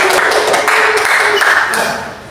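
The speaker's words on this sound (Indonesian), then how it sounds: "Tepuk tangan semua." Classroom students clap their hands together in a brief burst of dense, close applause that tapers off quickly.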